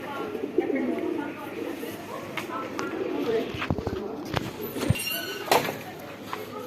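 Pigeons coo softly among scattered clicks and rustles, close by, while a person talks over them.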